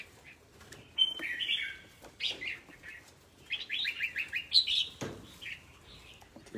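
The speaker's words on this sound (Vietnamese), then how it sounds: "À, chim này, to cho bà." Birds chirp and tweet in a run of bright, fairly loud calls, with short bursts and a rapid trilling series partway through, heard alone without talk.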